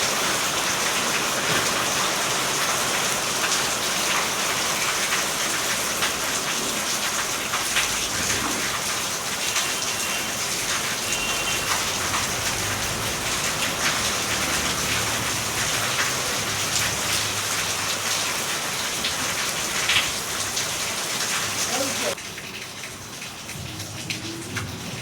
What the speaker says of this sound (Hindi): अच्छी बारिश आ रही है।